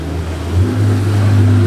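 A Porsche 918 Spyder engine revs up nearby on a Monaco street, its loud droning tone rising in pitch and holding, with a deep rumble underneath.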